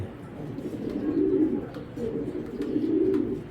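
Low, throaty cooing of racing pigeons in repeated rolling phrases, close by, with faint background clicks and rustles.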